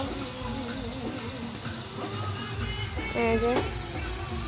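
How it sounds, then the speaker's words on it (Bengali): Cabbage sizzles in a pan with a steady hiss and crackle throughout. A voice speaks briefly over the cooking sound near the end. "এখন রান্না হচ্ছে বাঁধাকপি দেখো তোমরা"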